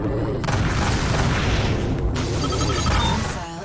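A missile blast in the space combat game Rebel Galaxy Outlaw lands as a loud, heavy boom that rumbles on for several seconds, followed by fainter electronic tones as the roar fades.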